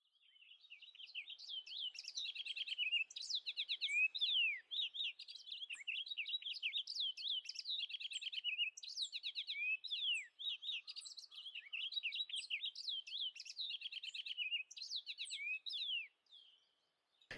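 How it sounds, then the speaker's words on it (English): A purple finch sings a continuous, rapid, warbling series of high chirps and twitters, close and clear against a silent background for about sixteen seconds. "Our next finch is the purple finch."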